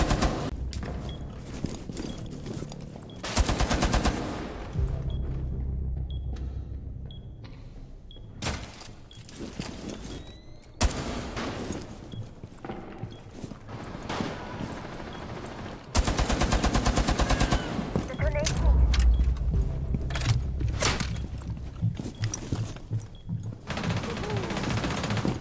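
Automatic gunfire from the reworked Tachanka's weapon in the video game Rainbow Six Siege, loud repeated bursts and rapid volleys with short pauses between them, alone without talk.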